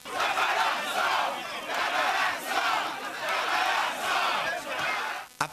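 Crowd of protesters in a ministry courtyard chanting in loud, rhythmic unison, about five or six evenly spaced shouted phrases in a row.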